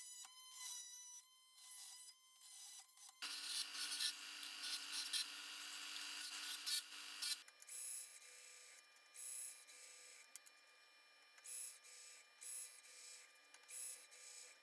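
Cleaning up and thread-tapping a homemade Z-axis motor mount for a DIY CO2 laser cutter: steady mechanical whirring and scraping that shifts in pitch across a few sections, close by and moderately loud, with no talking.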